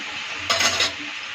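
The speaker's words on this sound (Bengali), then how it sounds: "ঘিটা দিয়ে ভালো করে নাড়িয়ে নেব" A spoon stirs ghee through cooked chana dal in a pot, one brief burst of scraping and soft sizzle rising over a quiet background hum, close by, no voices.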